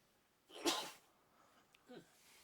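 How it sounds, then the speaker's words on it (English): A single sharp sneeze bursts out loud, right into the microphone, followed by a brief quieter sniff or breath; no talking. "Last couple of times you sneeze, it's been like right in the microphone."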